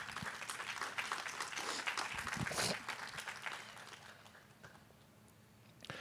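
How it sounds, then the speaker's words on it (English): A school district audience at a 2023 state of the district address breaks into applause, a dense wash of clapping that swells, peaks, then thins out and fades to scattered claps. "Let's give all of JDC a round of applause."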